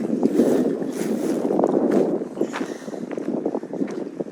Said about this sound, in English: it's nice to get all that wind too.